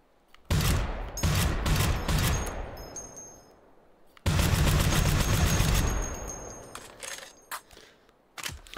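Full-auto gunfire in the VR shooter Hot Dogs, Horseshoes & Hand Grenades: two long, loud rapid-fire bursts separated by a lull, with a few shorter isolated shots trailing off near the end.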